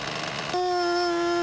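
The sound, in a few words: Nitro Hammer RC boat nitro engine running too lean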